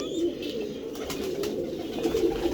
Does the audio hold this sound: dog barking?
no